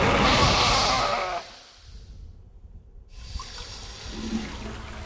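A loud rush of splashing water sweeps through at first, then cuts off sharply into near silence before a faint, softer background returns.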